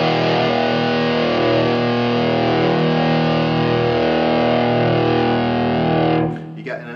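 Electric guitar played through a Vox VT40X amp with the gain turned fully up for high-gain heavy metal distortion: a loud sustained chord rings for about six seconds, then cuts off abruptly into muted scratches.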